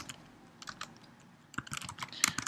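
Light, close typing on a computer keyboard: a sparse run of soft key clicks, then a quicker, denser burst of keystrokes near the end, with no voices.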